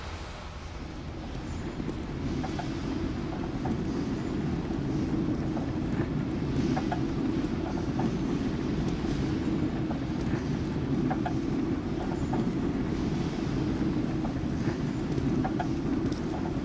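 A metro train rolling along rails in the Metro 2033 video game, a continuous low rumbling drone with faint rhythmic clatter over it, steady and moderately loud across the whole stretch, with no talk.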